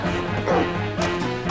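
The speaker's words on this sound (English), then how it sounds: "did not know Jeffrey had a dog act." A dog barks loudly and repeatedly at close range, mixed with crashing, thumping noises.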